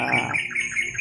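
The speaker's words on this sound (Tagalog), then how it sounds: "naririnig nyo naman kanina na may uwak talaga" A crow gives a harsh, raspy caw, loud and close, lasting about a second.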